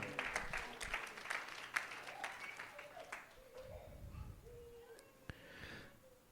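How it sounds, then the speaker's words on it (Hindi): A church congregation claps in thanks to the Lord during a Hindi sermon. The dense applause rattles for a few seconds, then fades into quieter room noise. "ताली बजा के प्रभु का"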